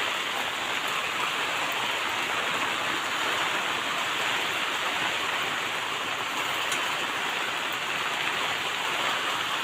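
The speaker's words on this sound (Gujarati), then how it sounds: "કેટલો વરસાદ પડી રહ્યો છે, જો" Heavy monsoon rain pours steadily in Gujarat, a dense unbroken hiss of drops on surfaces that stays loud and even throughout, with no voices.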